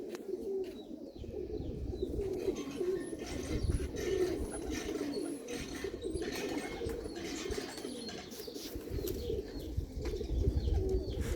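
Many pigeons cooing together in a continuous low, throaty murmur, close and fairly loud, with occasional faint chirps over it.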